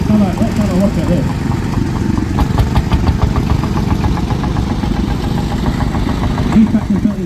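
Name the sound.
Field Marshall single-cylinder tractor engine running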